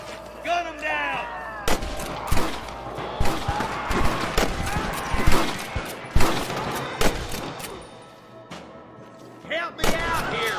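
Gunfire in a Red Dead Redemption shootout against rustler guards: repeated loud, close gunshots and volleys crack in irregular bursts throughout, with a voice shouting briefly at the start.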